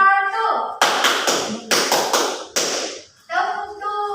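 A group claps in a counting clap game, with sharp bursts of hand claps in groups of one, two and three. A voice speaks in the pauses around them.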